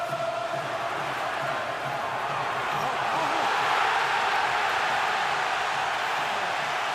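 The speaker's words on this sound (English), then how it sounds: "Crowd thunders its appreciation as Hatton almost gets penalized for hitting" A boxing arena crowd at a Mayweather–Hatton title fight roars its appreciation, a broad sustained wash of cheering that swells slightly around the middle and holds steady, with a commentator's voice faintly underneath.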